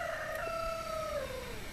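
A rooster crows on a family homestead, one long drawn-out cock-a-doodle-doo that rises and then trails off, clear and fairly close against a quiet outdoor background.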